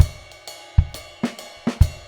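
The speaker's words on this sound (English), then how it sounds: "So with the jazz ride, it sounds like this" A ride cymbal played in a sparse swing pattern, bright ringing strokes at a moderate tempo with no other instruments and no voices.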